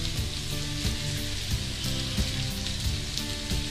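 Oil sizzles in a pan while fried rice is made, a dense crackling hiss with regular stirring knocks and scrapes, close and steady, no speech.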